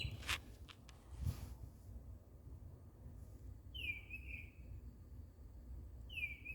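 A bird calls at night outdoors, two or three clear high whistled notes spaced seconds apart, moderately near over a low steady rumble of background noise.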